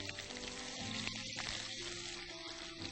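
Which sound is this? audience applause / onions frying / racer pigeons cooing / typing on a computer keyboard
onions frying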